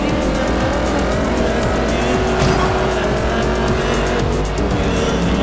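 Dodge Challenger muscle car racing in Forza Horizon 2, a loud steady engine roar with shifting revs and tire squeal, constant and close throughout.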